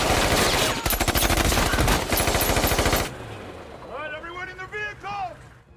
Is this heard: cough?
no